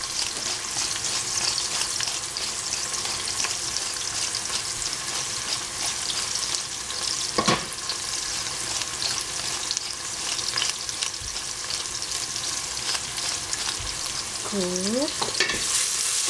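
Chinese broccoli and meat stir-frying in a hot pan, a steady loud sizzle with scraping stirs throughout, a brief clatter midway and a short spoken word near the end.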